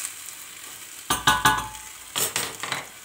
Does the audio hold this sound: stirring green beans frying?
yes